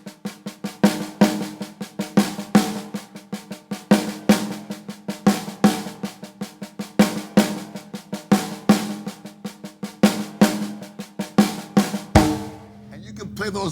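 A drum kit plays a steady groove of fast 16th notes, with accented left-hand snare hits landing on off-beat subdivisions, ending on a crash near the end; close, loud and without talk.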